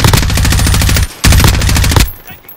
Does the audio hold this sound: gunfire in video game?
yes